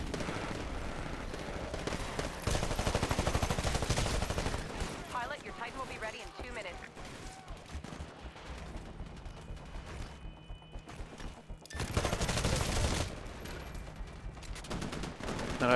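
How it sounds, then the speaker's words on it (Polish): Turret gunfire in the video game Titanfall, loud bursts of rapid automatic shots in stretches, with quieter gaps and spoken commentary over parts of it. "wieża jest, strzela we mnie."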